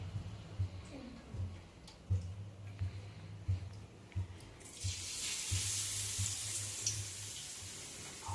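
Bread pakoda frying in hot oil gives a steady hiss and sizzle that swells louder partway through, with soft knocks and clatter in the kitchen around it.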